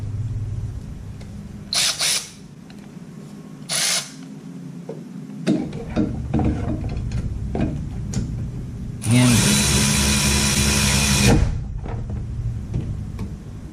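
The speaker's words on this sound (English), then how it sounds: "Just use your ratchet. Tighten them down." Ratchet turning the 17 mm brake caliper mounting bolts on a 2014 Lexus IS350 rear brake job, heard as a series of brief close clicks and knocks with one louder burst of rasping near the end, no talking.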